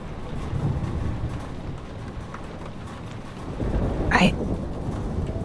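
A rain-swept thunderstorm in the game Life Is Strange Remastered rumbles low and steady, with a brief sharp crackle of thunder late on that rises over the downpour.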